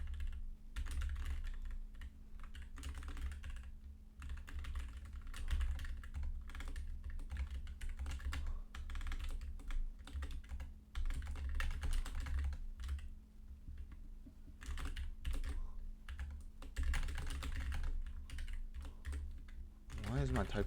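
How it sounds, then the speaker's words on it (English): Rapid, uneven clatter of typing on a computer keyboard during low-level C++ programming, close and continuous with brief pauses, over a soft hum and occasional quiet speech. "Why is my typing so slow?"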